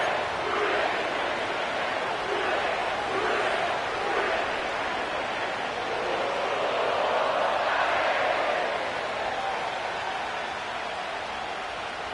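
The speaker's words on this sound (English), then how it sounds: "sellout crowd has arrived at Paycor Stadium in Cincinnati" Sellout stadium crowd at Paycor Stadium in Cincinnati, a steady, dense roar of many voices that swells slightly and stays level throughout, with no single voice standing out.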